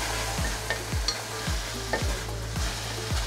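Savory crepe filling sizzles steadily in a pan after white wine is added, while a utensil stirs and scrapes in a regular rhythm of about two strokes a second, close and clear, with no talking.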